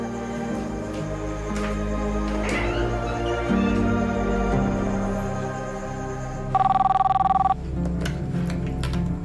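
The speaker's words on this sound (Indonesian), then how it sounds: "Coba kamu telepon dia sekarang ya." A telephone rings once with a brief electronic ring in an Indonesian TV drama scene, sounding over steady background music.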